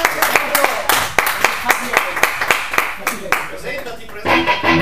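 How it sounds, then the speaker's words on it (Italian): Rhythmic clapping from a small audience at a live music jam session, loud and close, with speech over the beat and fuller applause swelling near the end. "Applausone, applausone!"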